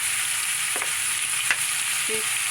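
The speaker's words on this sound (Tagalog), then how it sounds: "Ginigisa ko muna siya guys para lalabas yung lasa" Pork sautéing in a pan for sinigang gives a steady, close sizzle and hiss throughout, with a few brief scrapes and clinks of stirring.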